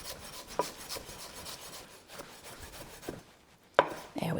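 A knife chops fresh basil on a board in a kitchen, giving irregular close taps and scrapes with a few sharper strikes near the end.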